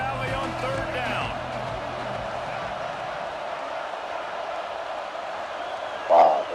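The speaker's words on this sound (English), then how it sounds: "Here comes the noise from this big crowd in Happy Valley on third down." Steady roar of a big stadium crowd at Happy Valley in the NCAA 26 college football video game, swelling for a third-down play, with a brief louder burst near the end.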